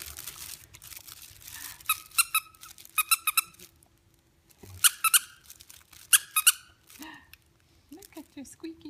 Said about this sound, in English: Look at your squeaky book.